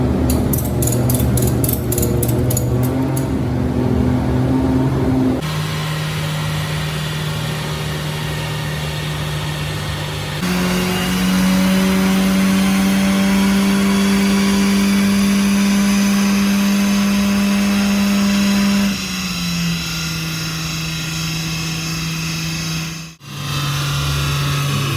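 Honda Jazz GK5 with a 2-inch catless header revving hard on a dyno, a loud continuous engine drone climbing in pitch through the gears with brief drops between shifts, alone without talk.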